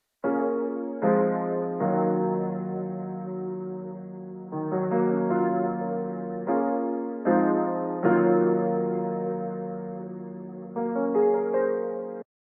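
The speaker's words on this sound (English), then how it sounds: "So with both pianos together, they both sound like this." Two sampled piano parts layered together with effects, playing sustained chords in phrases that restart every second or two, full and loud throughout with no voices.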